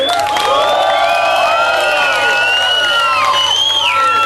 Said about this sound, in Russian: Если вы считаете, что семья была лучшая, ей аплодисменты.